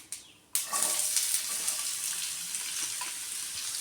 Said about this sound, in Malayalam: ഇനി നമുക്ക് ഉള്ളി ഇട്ട് കൊടുക്കാം.